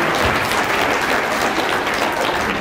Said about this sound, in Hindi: एक बार ताली बजाई